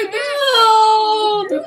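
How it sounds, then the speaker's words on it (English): A white caged bird gives a drawn-out, wavering wail that closely resembles a crying infant, loud and near, rising and falling over about a second and a half. "It literally sounds like a baby crying."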